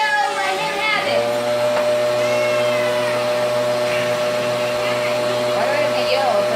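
A small child pushes a running vacuum cleaner across a floor, its steady whining drone with a low hum starting after a second and holding throughout while children and adults chatter and call out over it.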